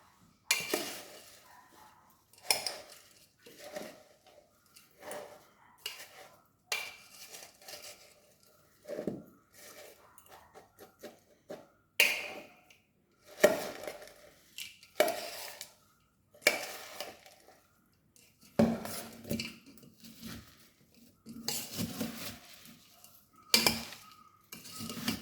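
A large spoon stirs vegetables and green chilli in a pan, with repeated scraping and clinking strokes in irregular bursts and a soft sizzle between them, close by and without talk.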